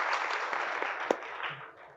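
An audience at a poetry recitation event applauds for the university, a short burst of scattered hand claps that fades away within two seconds.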